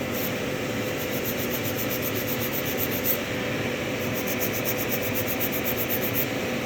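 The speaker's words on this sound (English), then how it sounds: "I'm going to use this other file because it is a little stronger than mine." A strong nail file rubs steadily against an extra-long stiletto nail, giving a continuous close scraping with rhythmic strokes and no pauses or talk.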